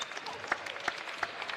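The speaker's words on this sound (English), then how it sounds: "The fans start to applaud, and some stand, and more stand" Crowd applause in a gym at a women's college basketball game, a steady wash of clapping with a few sharper claps standing out, moderately distant and fairly faint.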